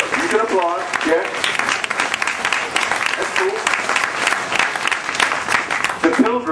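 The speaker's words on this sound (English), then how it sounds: "You can applaud, yeah?" Sustained crowd applause at an outdoor Native American Day of Mourning gathering in Plymouth, Massachusetts, steady and dense throughout, with voices and cheers mixed into the clapping.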